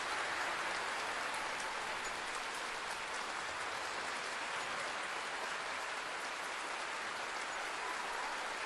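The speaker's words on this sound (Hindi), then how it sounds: "तालियां हो आपकी ओर से, तालियां लगातार होती रहें" A large crowd claps steadily at a government benefits ceremony with Chief Minister Hemant Soren, a dense, even, rain-like patter that holds throughout, faint and distant, with no voices over it.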